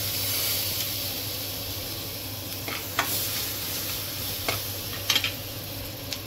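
Garlic stirred and mixed in a hot pan with sautéed vegetables, a steady sizzling hiss broken by a few sharp scrapes and clinks of the spoon against the pan.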